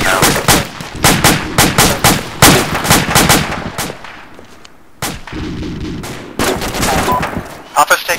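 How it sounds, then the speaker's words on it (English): Heavy machine gun fire in the military game Arma, rapid loud bursts of repeated gunshots with short pauses between volleys, close and punchy, with voices in the background. "Papa's taking fire from two different HMGs right now."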